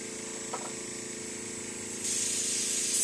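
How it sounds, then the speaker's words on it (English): An airbrush sprays Silver Blue makeup color, a steady close hiss that grows noticeably louder partway through. "I'm going to spray the remainder of that out"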